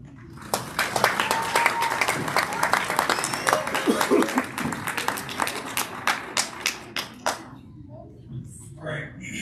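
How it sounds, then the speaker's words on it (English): A round of applause at an end-of-year board meeting, close individual hand claps building into a crowd clapping, then thinning to scattered claps and trailing off by the end. "Hopefully, everybody gives them a round of applause for that."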